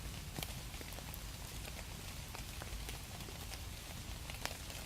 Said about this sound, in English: it's been raining like this for 2 or 3 days now